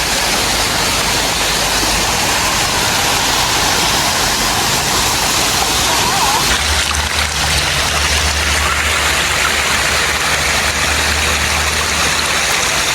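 Water rushes steadily from Sai Yok waterfall in Thailand, a continuous broadband roar heard close by, with a low rumble joining in about halfway through.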